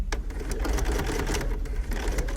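A BERNINA sewing machine fitted with binding attachment #88 stitches 38mm bias binding, running steadily for a couple of seconds with a continuous, rapid mechanical hum and fine ticking of the needle, close and alone with no talking.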